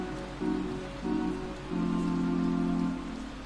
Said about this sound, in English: Rain coming down a little bit harder than it has throughout the game so far